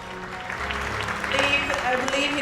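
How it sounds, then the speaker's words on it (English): A crowd at an awards ceremony keeps up steady applause, with a voice talking over the clapping and music faintly underneath. "Can we keep the applause going,"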